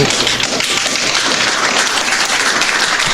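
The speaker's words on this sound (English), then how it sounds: "okay, round of applause" A loud, dense round of applause fills the space evenly from start to finish, many hands clapping at once.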